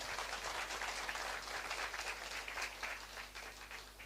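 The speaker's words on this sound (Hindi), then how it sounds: "मैं चाहता हूँ एक जोरदार तालियां कुलकर्णी सर के लिए" An audience at a multidisciplinary research and innovation lecture gives a round of applause for a speaker: a quiet, even wash of many hands clapping for about four seconds, fading slightly toward the end.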